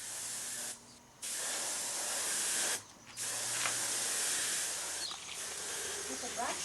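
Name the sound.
spray painting concrete garden ornaments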